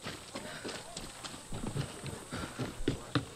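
A horse in the game Far Cry 6 clip-clops along at a steady trot, close and fairly quiet, with hoof knocks in an even rhythm and a voice partly over it.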